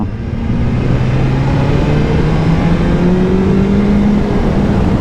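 A BMW S 1000 XR motorcycle engine accelerates hard, its loud, close growl climbing steadily in pitch for several seconds with no break.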